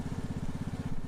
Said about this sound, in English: I think that was a lawnmower in the distance.